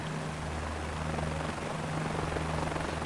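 Helicopter flying in Microsoft Flight Simulator 2024: a steady rotor and engine drone holds constant for the whole stretch, close and even, with no voices over it.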